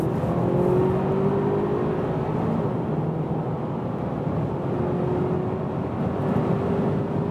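An Audi A4 in dynamic mode accelerates hard from 90 km/h, its engine making a steady, loud drone with a slowly rising tone, wrapped in road and wind noise inside the cabin.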